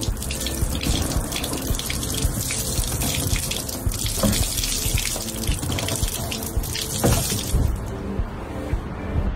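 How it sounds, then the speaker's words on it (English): A roller wringer squeezes water out of towels, giving a loud, continuous splashing and gushing of released water with small clattering bursts and a tail that drops off near the end. "A roller wringer quickly removes water from towels, boosting the overall drying speed."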